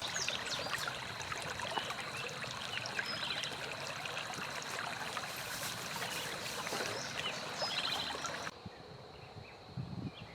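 Creek water flows steadily on a farm in spring, a continuous close trickling and rushing wash that runs alone without talk, dropping slightly quieter near the end.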